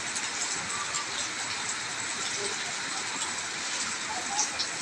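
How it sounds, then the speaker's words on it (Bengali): Heavy rain pours down in a steady, dense hiss that stays even and fairly loud throughout, with no pauses and no other distinct sounds rising above it. "বৃষ্টি হচ্ছে অনেক সুন্দর"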